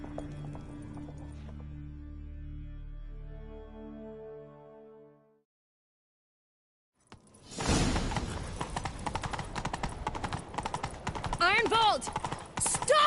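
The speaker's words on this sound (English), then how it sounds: "Grab a horse, we'll chase him down." Horse hooves galloping in The Witcher 3: Wild Hunt, fast rapid clip-clop that bursts in after a quiet musical lead-in and pounds on continuously and loud, with a whinny near the end.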